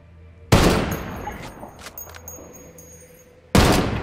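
Gunfire in Ghost Recon Wildlands: a sharp, loud shot opens with a broad blast that trails into a decaying echo and scattered crackles, then a second equally loud shot hits about three seconds later.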